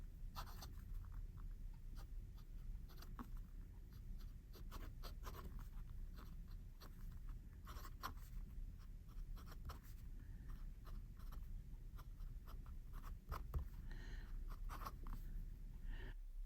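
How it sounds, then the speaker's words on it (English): A new old stock Sheaffer Intensity fountain pen with a medium nib writing on paper: steady, faint scratching strokes with small rhythmic pauses, heard up close and alone for the whole stretch. "let's see how the pen writes"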